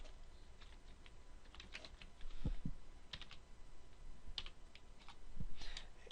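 Typing on a computer keyboard while entering links into Dreamweaver CS5 code, with scattered soft key clicks in irregular bursts over a low background hum, close and fairly quiet.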